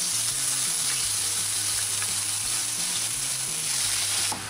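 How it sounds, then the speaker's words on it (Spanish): Chopped onion sizzles and crackles in hot oil in a pan, a steady, fairly loud hiss that holds for several seconds with no talking. "Ponemos a calentar el aceite y agregamos la cebolla."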